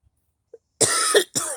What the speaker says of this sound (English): Excuse my cough. My allergies have been acting up bad lately.